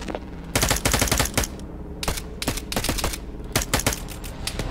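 Rapid bursts of automatic gunfire from the Arma 3 military video game, close and loud, with short volleys and single cracks firing in quick irregular succession throughout.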